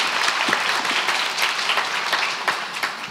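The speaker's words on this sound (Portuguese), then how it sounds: "Uma salva de palmas para a Lígia." An audience applauds for Lígia at a school event, dense and sustained clapping from a crowd that fills the whole stretch at a steady, loud level.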